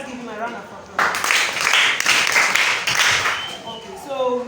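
An audience bursts into applause at a Ghana history festival jigsaw puzzle competition in Nungua Kroma. Speech comes first, then dense steady clapping fills the room for about three seconds before fading as talk resumes.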